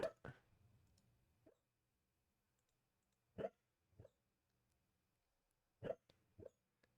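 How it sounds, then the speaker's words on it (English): A dog whines faintly in the background indoors, in about five short, separate whimpers spaced by quiet stretches. "I don't know if you can hear my dog making sads in the background"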